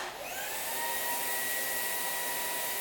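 A Shark EvoPower System Boost Plus cordless vacuum cleaner runs nearby with a steady, loud, airy whir and a sustained high whine, alone and unchanging throughout.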